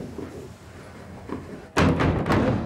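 Heavy wooden trap doors of a sack hoist in a Victorian mill bang shut with one loud, close slam after a quieter creaking lead-in, the reverberant thud lingering in the room.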